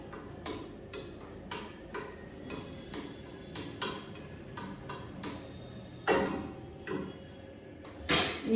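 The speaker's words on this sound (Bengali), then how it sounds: "এবার এটাকে নেড়ে দেবো।" A spoon stirs condensed milk in a metal pan for rabri, making a steady run of light, close scraping and tapping clicks with a few louder knocks against the pan.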